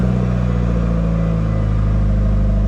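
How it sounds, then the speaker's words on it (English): Link ECU swapped Mitsubishi Evo 8 idling just after starting with its IACV unplugged, a loud, steady, close engine drone with a pulsing low throb and no voices. "So if I take this plug off right now and I go to start the car, it's gonna start up kind of weird."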